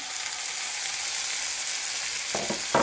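Steady sizzling of chopped tomato sautéing in a pan, soft and continuous, with a couple of brief scraping stirs near the end.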